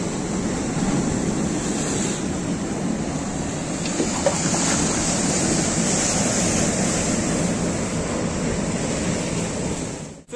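Sea waves break and wash against the shore at a fishing spot in Boujdour, a loud, continuous roar of surf with wind noise buffeting the microphone and no talking.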